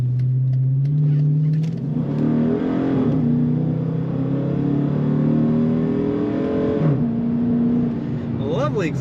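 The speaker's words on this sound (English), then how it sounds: "Lovely exhaust note." A 2014 Dodge Challenger R/T 100th Anniversary Edition with an automatic transmission accelerates hard, its engine and exhaust droning loud and close and climbing in pitch through several gear changes.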